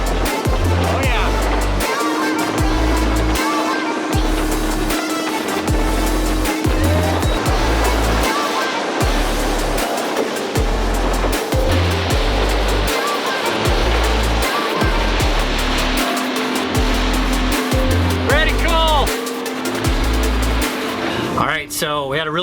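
Brand-new motor dinghy powering across open water, a loud, close engine roar broken by rhythmic slapping thumps as the hull hits waves, with wind and spray throughout.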